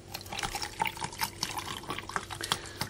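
Water pours steadily into a 3 litre container being filled to the brim, a continuous trickling, splashing flow with small drip-like accents, close and moderately quiet, with no talking.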